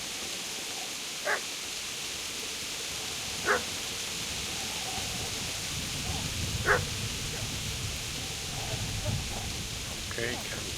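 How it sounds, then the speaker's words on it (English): In the medieval video game Kingdom Come Deliverance, a dog gives a few short, separate barks at a distance, spaced over several seconds against a low ambient background while someone talks. "Yeah, that's the dog."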